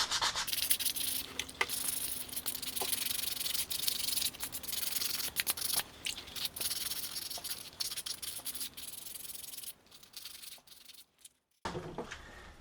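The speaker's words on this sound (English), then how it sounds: "I'm still continuing on with the wet sand method of polishing up my parts here." A motorcycle brake shoe cover is wet sanded by hand, a continuous hissy back-and-forth rubbing with rhythmic strokes, close and steady, briefly pausing near the end.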